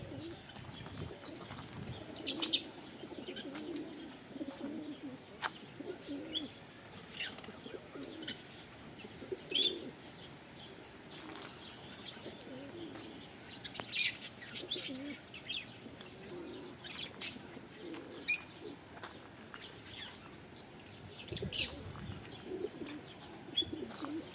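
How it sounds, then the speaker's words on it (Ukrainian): Soft cooing of pigeons mixes with sharp parrot chirps and occasional wing flaps, fairly quiet and scattered, with ambient outdoor noise throughout. "попугаї розкидають їду, голуби збирають"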